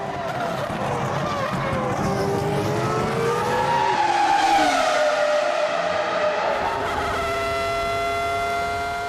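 Formula 1 race cars from the 2005 season scream past with high, whining engine notes that rise and fall in pitch as they go by. The sound is loud and continuous, and a commentator can be heard under it.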